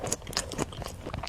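Someone bites into a crisp macaron, giving a few quick crunchy cracks followed by soft chewing, close and quiet, with no talking.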